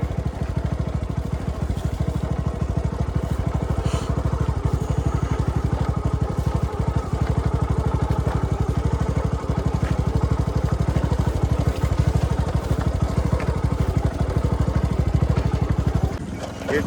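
A motorcycle engine runs steadily and loudly for the whole stretch, a continuous mid-pitched rumble close by on a village farm road.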